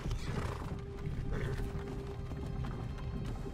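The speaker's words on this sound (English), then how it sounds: "Horse sounds." A horse neighs in the video game Skyrim over a dense, steady rumble of background noise, fairly quiet overall.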